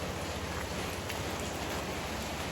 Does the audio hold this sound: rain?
yes